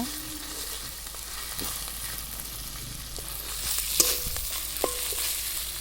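Mashed fried fish head sizzles steadily in a pan of oil for moong dal, a continuous hiss with a few sharp scraping clicks of the spatula pressing and breaking it near the end.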